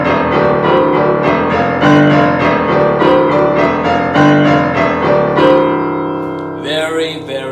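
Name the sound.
piano played with loud boomy low left hand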